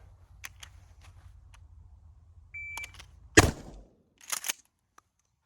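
A shot timer beeps, followed by one sharp, loud blast from a Mossberg Shockwave shotgun, then a brief burst of clatter after it.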